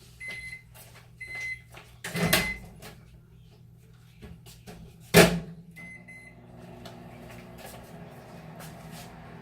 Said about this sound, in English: let's get one of these out of the microwave first